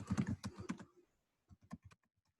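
Someone types a password on a computer keyboard: a quick run of close, crisp key taps, a short pause, then a few fainter scattered keystrokes.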